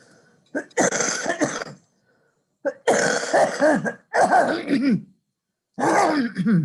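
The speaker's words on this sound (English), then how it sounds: "I forgot to mute my cough" Several harsh, voiced coughs in separate bursts with short silent gaps between them, close and fairly loud, during an online school board meeting.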